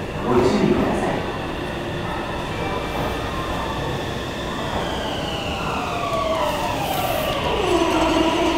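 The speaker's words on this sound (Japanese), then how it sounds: "3番線から電車が発車します。" A Meitetsu 2200 series limited express train rumbles steadily as it departs Kanayama station, with a rising, whining motor tone sweeping upward and a loud, continuous rail noise throughout.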